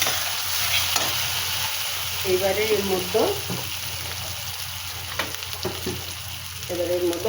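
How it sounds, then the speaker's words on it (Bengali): Spice paste fries in oil in a pan with the oil separated, giving a steady close sizzle with occasional stirring scrapes, while someone speaks briefly over it. "তেল উঠে গেছে মশলার থেকে, দেখতে পাচ্ছি সুন্দর পুরো মশলাটা ভাজা হয়ে গেছে।"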